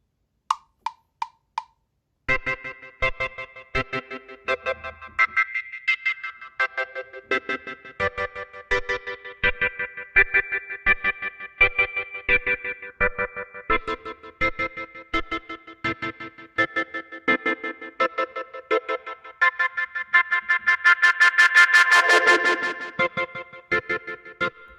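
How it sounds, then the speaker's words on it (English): A GarageBand reggae organ loop chops out short offbeat chords in a steady skank rhythm, smeared by echoing delay and a sweeping filter that swells brighter near the end, played alone without voices. "and add some delay and add some filter to the organ."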